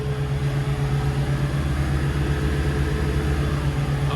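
A Volvo Penta D4 diesel sterndrive engine runs on a Cranchi Zaffiro 34 boat, a loud, steady drone with a constant low hum and no change in pitch, no voices.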